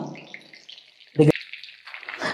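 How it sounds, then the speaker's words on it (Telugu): Chicken 65 pieces frying in hot oil, a soft crackling sizzle with one sharp spatter partway through, heard close under a voice talking. "సో ఒక సైడ్ ఫ్రై అయింది, ఇంకో సైడ్ తిప్పుకుందాము."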